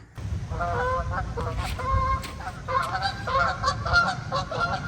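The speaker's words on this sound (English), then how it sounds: "Geese." Several geese honk repeatedly in loud, nasal bursts, close by, overlapping one another in an uneven chorus.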